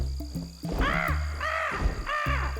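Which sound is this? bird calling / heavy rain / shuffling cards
bird calling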